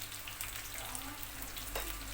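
Eggplant sizzles and crackles in hot oil, a continuous close frying hiss with scattered pops and a faint stir, no talking.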